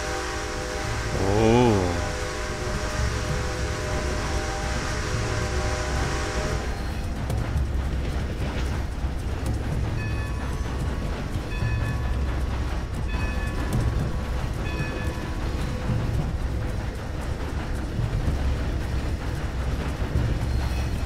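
A train runs in Red Dead Redemption 2, a steady low rumble and rattle of the moving cars that continues throughout, with a brief horn-like tone early on before settling into constant rolling noise.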